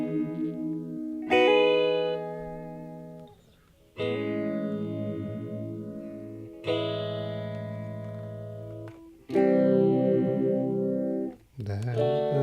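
Electric guitar strummed through chorus and delay effects, playing the verse chords of a song in four or five sustained, ringing phrases with brief gaps between them and no voice.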